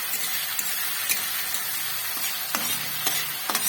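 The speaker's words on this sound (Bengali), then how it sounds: "এর মধ্যে দিয়ে দিলাম আদা রসুন বাটা দিয়ে হালকা একটু নাড়াচাড়া করে নেব" Ginger-garlic paste stirred with onions in a sizzling frying pan for a chicken curry: a steady hiss of hot oil broken by a few sharp scrapes of the spoon against the pan.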